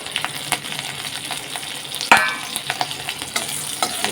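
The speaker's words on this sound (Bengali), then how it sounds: "দেখো আমি তেল দিচ্ছি এবারে দেব কাঁচা লঙ্কা কাঁচা লঙ্কা দিচ্ছি" Green chillies sizzle and crackle in hot oil in a pan, a continuous frying hiss with stirring scrapes and one sharper burst midway, close and fairly loud.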